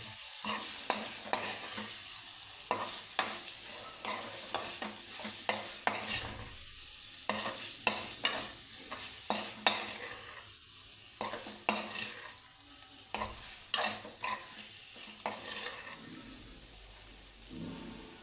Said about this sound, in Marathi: कांदा लसूण चटणी दोन चमचे घालणार आहे हे सगळं छान मिक्स करून घ्यायचं आहे